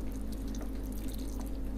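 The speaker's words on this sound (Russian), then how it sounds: "Вот так вода выбегает из форсунок." An automatic watering system with a pump pushing water out through drilled nozzles for growing wheatgrass, giving a steady hiss of spraying and trickling water over a constant low pump hum, close and even.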